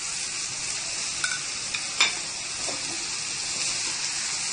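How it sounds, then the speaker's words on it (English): Raw vegetables with black pepper, herbs and salt cooking in a tomato sauce for pasta, giving a steady bright sizzle with a few sharp clicks and scrapes of stirring, close and uninterrupted by talk. "Now to this I am going to add this raw vegetables and black pepper and herb and salt"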